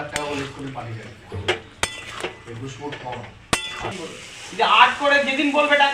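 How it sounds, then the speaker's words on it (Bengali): Eggplant and moong dal being stirred in a metal pan, with sharp metallic clangs and scrapes from a utensil against the pan at irregular intervals, close and fairly loud, alongside a soft sizzle and someone talking. "নেড়ে মিশিয়ে দেবো"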